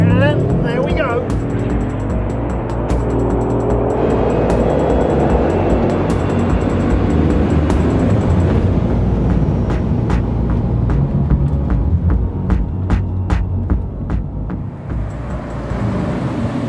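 A Bugatti Chiron's powerful engine roars under hard launch acceleration, loud and sustained, with a voice speaking over the noise.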